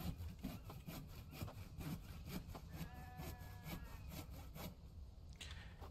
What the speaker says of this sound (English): So I put a plank here. It's sawing. You hear it sawing on its own.